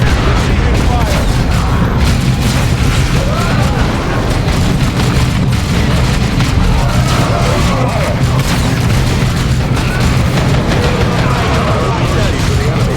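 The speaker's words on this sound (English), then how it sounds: "Taking heavy damage! Your orders. Receiving fire." Gunfire and explosions in Warhammer 40,000 Dawn of War II, a relentless loud wall of booms, blasts and shots across the whole stretch, with in-game unit voices calling out over the battle.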